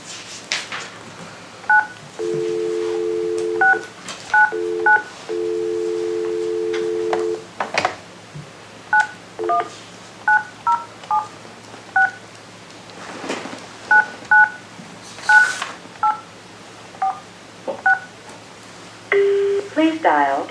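Telephone keypad tones sound during a call-in to a planning and zoning meeting: short paired beeps in uneven runs, several longer steady tones, and a voice heard speaking near the end.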